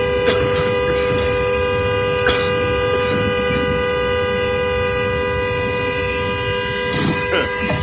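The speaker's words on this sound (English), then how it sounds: "this is her in this car honking the horn" A car horn honking repeatedly in short bursts over steady tonal hum, with brief louder toots near the start and end, fairly close.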